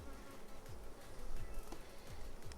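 Honey bees buzz at a calm hive, a steady, dense drone close by with no voices.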